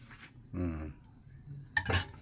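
A lid settles onto a cooking pot of soup with a bright metallic clink and short rattle near the end, after a brief spoken word and low background murmur.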